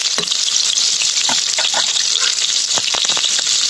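Cumin with chili paste and ginger paste frying in a pan, a steady loud hiss of sizzling oil broken by occasional scraping stirs, no voices.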